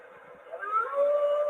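A wolf howl rises from a light-up diploma display, a rising electronic wail with a waterfall-like hiss behind it, moderately loud and alone, swelling and holding steady over its short length.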